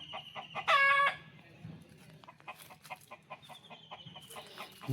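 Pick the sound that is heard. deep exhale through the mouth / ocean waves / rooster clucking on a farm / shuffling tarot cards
rooster clucking on a farm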